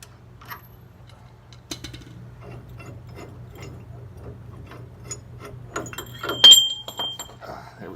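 A ball joint press is loosened with a hand tool, making a run of quick ratcheting clicks and metallic ticks close by, sparse at first and then busier, with a sharper clank near the end.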